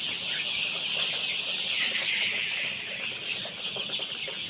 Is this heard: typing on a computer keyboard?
no